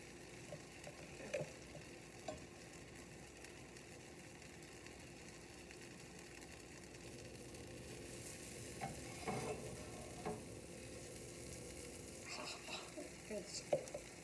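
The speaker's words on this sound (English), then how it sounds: "Can you hear it sizzling?" Greek burger patties sizzle quietly in a frying pan, a steady soft crackle with occasional stirring scrapes and small bumps throughout.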